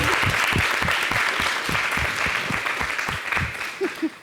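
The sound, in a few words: audience applause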